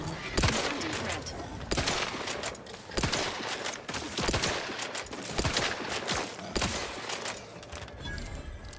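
Shotgun fire in the sci-fi shooter game The Outer Worlds 2, a series of loud, sharp blasts repeating every second or so amid combat noise and other gunfire, with no talking.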